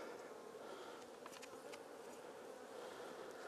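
Honey bees buzzing at an open beehive, a faint continuous hum filling the background with no talk.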